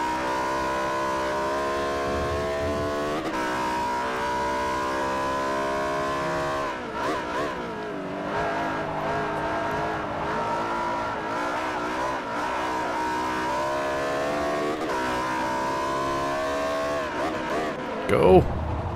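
A Spyder Evo race car in Forza Motorsport 4 revs and blips its throttle, a loud sustained engine drone rising and falling repeatedly, with a sharp tire squeal near the end.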